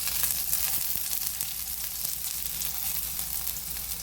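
Garlic frying in a pan for pinakbet, a steady dense sizzle with faint crackles throughout, close and alone without talk.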